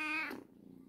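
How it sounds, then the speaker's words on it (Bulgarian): A house cat gives one short, clear meow up close, cut off quickly and followed by near silence. "котето дойде вече и то да огледа какво се случва по масата"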